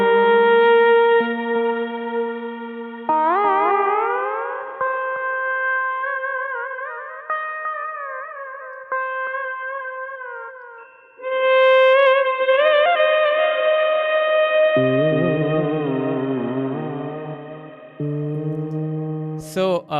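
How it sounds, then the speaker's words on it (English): Alap vocal drenched in heavy reverb within a music mix, long sustained melodic lines with gliding ornaments over a low drone, sounding distant, distorted and saturated, with layered instruments entering midway. "So for the alap, it's got all the reverb in the world."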